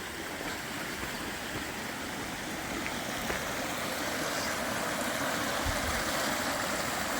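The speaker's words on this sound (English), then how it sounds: "A bit of the stream flowing by." Stream flowing near a waterfall in Australia on a sunny winter afternoon, a steady broadband rush of running water, constant and close, with no voices.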